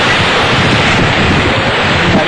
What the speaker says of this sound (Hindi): वहाँ करीब 4 फीट तक पानी भरा और जहाँ तक नजर जाती है सैलाब ही सैलाब दिखता है।